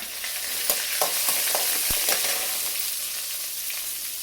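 Mustard seeds, urad dal, dried red chilies, curry leaves and peanuts sizzle steadily in oil in a pan, with light clicks and scrapes from stirring scattered throughout; no voices.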